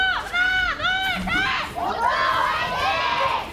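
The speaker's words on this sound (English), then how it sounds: "this is probably the most animated crowd that we've had so far" An esports arena crowd at a 2018 Overwatch World Cup match in Korea roars and shouts continuously, loud and dense, with a commentator speaking over the cheering.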